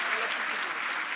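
Audience clapping at a Team Botswana appreciation dinner, a brief steady round of applause heard at moderate level from the room.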